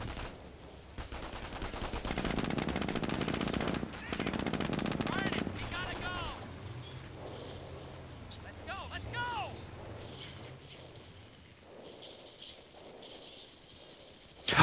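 A German MG crew in the Company of Heroes video game lets off loud, dense, sustained machine gun bursts, then the firing thins to scattered shots and distant battle noise while a voice talks.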